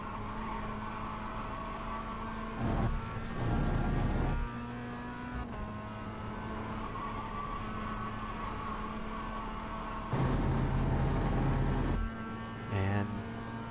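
A race car at Lime Rock Park easing off toward the pits, engine droning steadily with a few louder surges of revving and passing noise in between.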